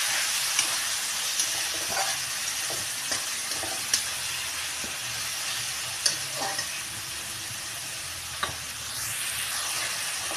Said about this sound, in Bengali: মশলাটা এবার ভালো করে ভেজে নেব।